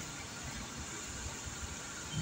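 A steady, faint rush of air from the air-conditioning fan of a Suzuki DA64 minivan with intermittent cooling, blowing strongly and continuously, with a low background hum.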